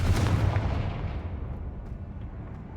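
Confringo fire spell blast in the game Hogwarts Legacy: a loud, close, booming explosion that rumbles and fades away over a few seconds, with no talk.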